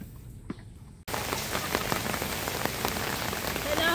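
Rain pours onto a surface near a backyard chicken pen where hens are kept, starting abruptly after a second of quiet with one small knock, then a loud, steady close patter of drops.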